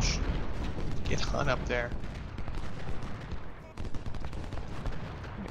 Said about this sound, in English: And so much artillery right now.